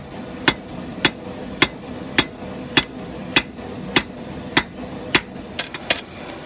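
A blacksmith hammers along forged tong reins to smooth the corners, about a dozen sharp ringing blows at an even pace, loud and close over low shop hum.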